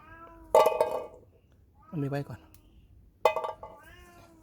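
A cat meows clearly three times, spaced about a second apart, close and fairly loud, with a person talking quietly between the calls.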